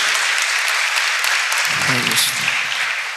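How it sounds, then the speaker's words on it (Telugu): A church congregation claps together for a healing testimony, a steady broadband patter of many hands filling the room, with a brief voice rising through the applause midway. "చప్పట్లు కూడా దేవునికి స్తోత్రం"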